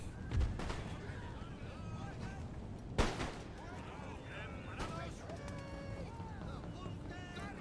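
Cannon and musket fire from the Empire: Total War strategy game: a few heavy booms stand out over a steady rumble of distant gunfire, with someone talking over the battle.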